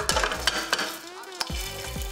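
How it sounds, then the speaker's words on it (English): Taco meat sizzling in a frying pan, a close, steady crackle broken by several scraping stirs of a utensil, with no talk. "Sizzle."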